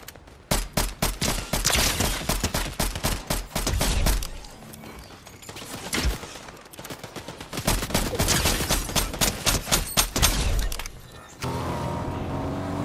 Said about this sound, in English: It just making shotgun sounds every time you do that